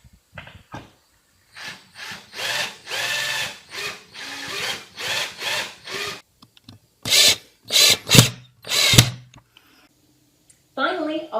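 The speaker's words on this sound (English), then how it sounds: "we're simply screwing the pegboard into the furring strips using the pegboard holes spaced out" A power drill drives screws through pegboard into wooden furring strips, several short bursts of whirring motor with gaps of near silence between them, close and fairly loud.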